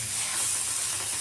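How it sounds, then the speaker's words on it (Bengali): Shrimp coated in salt and turmeric fry lightly in a pan, a brief steady hiss and soft sizzle heard up close with no talking. "লবণ দিয়ে আর হলুদ দিয়ে মাখা চিংড়ি মাছগুলো হালকা ভেজে নিচ্ছি"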